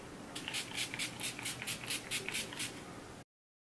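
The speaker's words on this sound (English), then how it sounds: "use my little highlighter brush to apply" A small makeup brush sweeps highlighter across facial skin in quick, soft repeated strokes, a faint close-up brushing rhythm of about a dozen swishes, alone and quiet.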